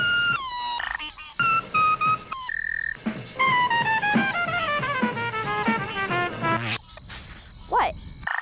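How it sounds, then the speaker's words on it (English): Several sharp frog croaks and trilling calls come in short bursts with gaps between them, some rising and falling in pitch, close and clear with no one speaking. "A frog does the same thing when it blows air out of its mouth and over its vocal cords to make some funky sounds."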